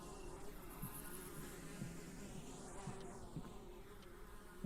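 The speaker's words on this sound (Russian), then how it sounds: "Как будто эти мухи тут летают." Flies in the eerie Hellseed video game, made up of a steady, faint, close insect buzz with small intermittent ticks over a quiet, mouldy-room ambience.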